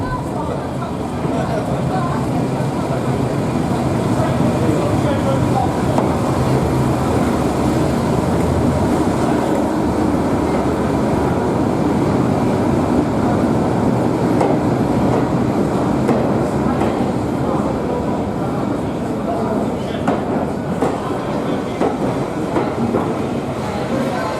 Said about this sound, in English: Here we see Class 31 D5830 heading into the station